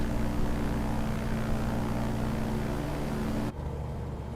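Sting S4 ultralight plane in Microsoft Flight Simulator, a steady loud propeller-engine drone heard from inside the cockpit, holding evenly before the sound abruptly thins and drops near the end.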